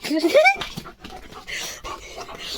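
A German Shepherd dog pants in quick breaths close by, with whimpering yelps early on and people talking over it.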